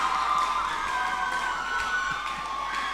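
A school leaving-ceremony audience at Wolmer's High School for Boys cheers and shouts in a dense, continuous crowd roar that holds steady throughout.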